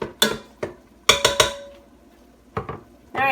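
A utensil stirring hamburger meat in a Ninja Foodi pot gives a few sharp, close clanks and scrapes in quick clusters, with quiet gaps between them and no talking.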